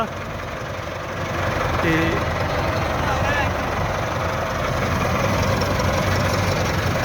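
Kubota KAR 90 mini combine harvester engine idling: a loud, continuous low diesel throb close by, steady throughout, with someone talking briefly over it.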